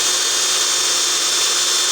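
A drill bit bores steadily into a coconut shell, the young yellowish or light-brown kind. It gives a continuous, loud grinding whir with no break across the short span.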